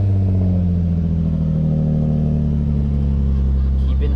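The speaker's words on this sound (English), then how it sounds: "Let's turn the car on." A Nissan 350Z engine idling steadily and loudly, with a deep continuous drone and no clear start-up burst, while a coolant flush and thermostat replacement is under way.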